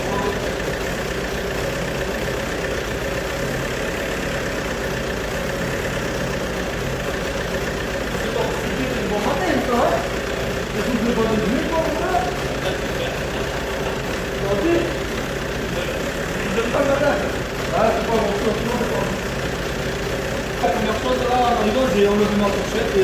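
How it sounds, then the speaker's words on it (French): A vehicle engine left running at idle gives a steady low drone throughout, with a person talking over it. "Là, je vais le laisser tourner au ralenti."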